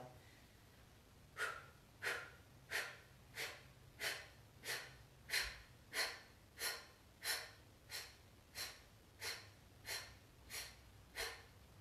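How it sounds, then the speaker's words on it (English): Quick, short, forceful breaths pushed from the diaphragm in agnisara fire breathing, about sixteen evenly spaced puffs at a steady brisk rhythm, close but soft, with no talking. "Think of quick short exhales coming from your diaphragm, so feel your belly come in and up as we exhale."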